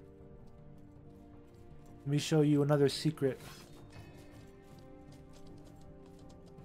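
Horse hooves clip-clop steadily and faintly in Mortal Online 2, a quiet rhythmic patter running underneath a man's brief spoken remark.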